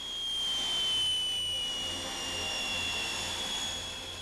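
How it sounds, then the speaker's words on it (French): An F-27 turboprop airliner, about twenty years old, taxiing toward the runway at dusk, giving a steady broadband engine roar with a high whine that holds evenly throughout, fairly distant and without voices. "l'avion roule vers la piste"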